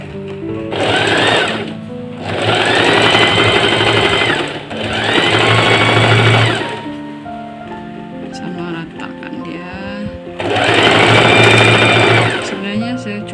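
A sewing machine stitches a traditional Kadazandusun garment, running in four loud, close bursts of rapid whirring and clatter separated by short pauses. Someone talks in the gaps between the bursts.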